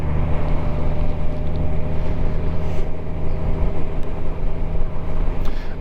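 A motorcycle cruising down Route 20 in Ashtabula, with a steady, loud engine drone and road rumble mixed with wind, continuous and close throughout, no talking.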